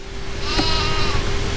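A goat bleats in a mystery detective video game, one wavering cry near and clear over a steady background hum.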